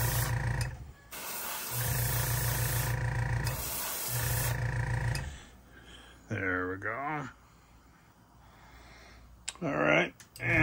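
Alcohol-based GSW chrome spray paint hisses from a can onto small parts in three long, steady bursts with short gaps between, followed by someone talking close to the microphone.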